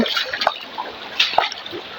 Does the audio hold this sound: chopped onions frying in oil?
no